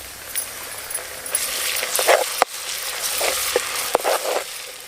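Onion paste with ginger garlic paste frying in a pan for chicken curry, a steady close sizzle broken by scraping and clinking of a spoon against the metal pot, with no talk.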